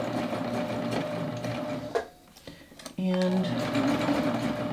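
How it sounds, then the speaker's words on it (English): A serger running a 4-thread stretch stitch on dress fabric: steady rapid mechanical whirring that stops briefly, then restarts strongly with a tonal motor hum, with a brief spoken word in between. "I'm just going to start stitching."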